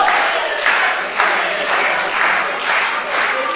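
A crowd at a live wrestling event in Dagenham claps and cheers. The loud, rhythmic rounds of applause swell in regular waves, and no one speaks over them.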